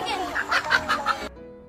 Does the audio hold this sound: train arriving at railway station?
no